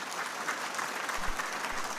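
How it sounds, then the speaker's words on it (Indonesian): Audience applause after a political speech in Indonesia, a short burst of dense clapping from a crowd, steady and moderately loud with no voices over it. "boleh beri tepuk tangan"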